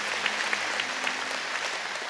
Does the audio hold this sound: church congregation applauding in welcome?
yes